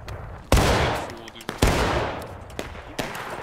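Musket volleys ring out in the Civil War game War of Rights: several sharp, loud shots at irregular intervals, two heavy reports followed by lighter cracks, each trailing off in a rolling echo.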